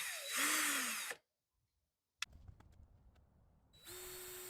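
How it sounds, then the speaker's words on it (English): A power drill with a spade bit bores a hole in two loud whirring bursts, one at the start and one at the end, separated by a silent gap and some quieter handling clatter. "I'll spin it through because I'm using a spade bit and not a Forstner bit"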